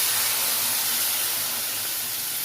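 Semolina roasting in ghee hisses and sizzles loudly as water is poured in, a steady, close, dense spitting roar that holds without a break from start to finish, with no voices over it.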